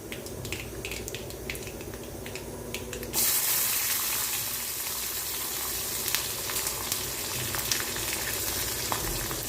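Garlic sautéing in a pan, a quiet sizzle that jumps to a louder steady crackle partway through, with faint clinks.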